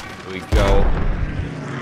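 Gunfire from the video game Call of Duty WWII erupts suddenly and loudly after a quieter stretch, a dense burst of overlapping shots and booms that keeps rumbling to the end, with people talking underneath.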